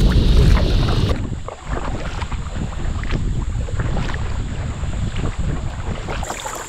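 Wind buffets across a river during a canoe trip, a loud steady rushing roar close to the microphone with faint paddling and water sounds beneath it and no talking.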